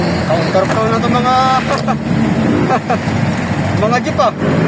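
Busy roadway traffic with jeepneys and other vehicles along Quirino near the MRT-7 construction, a steady engine and road rumble throughout, with people talking over it.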